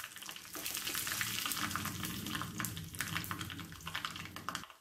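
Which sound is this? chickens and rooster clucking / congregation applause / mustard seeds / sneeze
mustard seeds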